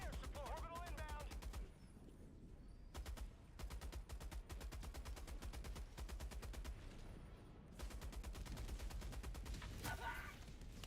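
Rapid turret fire in a video game, rattling in long repeated bursts with short gaps between them, fairly loud and continuous across the stretch.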